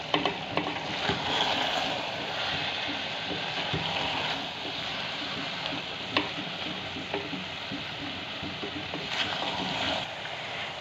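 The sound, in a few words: vegetables with green chilies being stirred and fried in pan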